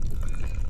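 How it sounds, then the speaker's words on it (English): Water pours steadily into a jaffle iron while buttermilk pancakes cook, a brief close splashing trickle with no voices. "So let's add the water."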